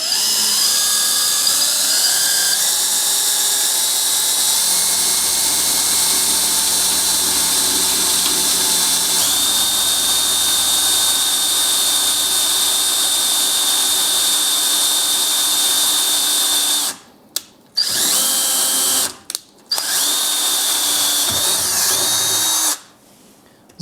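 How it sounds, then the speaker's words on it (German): A power drill pre-drills a hole in a sim racing pedal plate reinforcement for an RSeat RS1, whining loudly and steadily with shifting pitch, then stopping and restarting in several short bursts near the end. "So habt ihr sozusagen das erste kleine Loch vorgebohrt."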